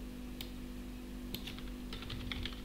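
Fingers tap out a long number on a computer keyboard, producing a sparse run of light clicks that quicken toward the end over a steady low hum.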